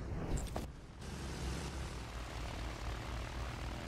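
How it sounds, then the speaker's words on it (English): A bomber plane's propeller engine drones loudly and steadily in the World War I shooter Battlefield 1, with a continuous close rumble and a brief hiss at the start. "Joel, get in the bomber plane with me."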